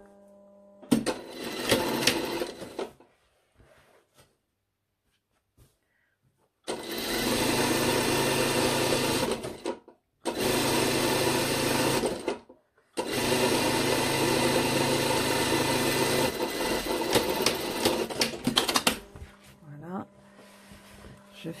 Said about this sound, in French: Je fais ma surpiqûre.